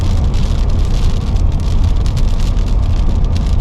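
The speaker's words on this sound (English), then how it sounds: "Car coming." A car passes on a wet road in a winter storm on a bridge in the Lofoten Islands. The loud tyre hiss and engine rumble are steady and sit under heavy wind and rain noise.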